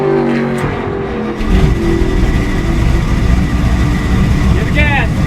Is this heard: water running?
no